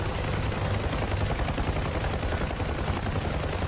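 Rapid, continuous bursts from a door-mounted machine gun on a UH-1H Huey helicopter in DCS, loud and close over the constant rotor and engine roar, with no pauses.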